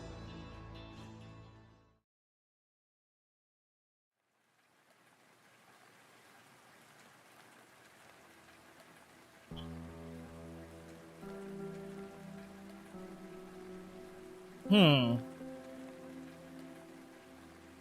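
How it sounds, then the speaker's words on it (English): Fine autumn rain from the game Arknights patters softly and continuously beneath a quiet musical backdrop, broken by a brief silent gap early on and a short bright chime-like flourish near the end. "Fine autumn rain continues unabated."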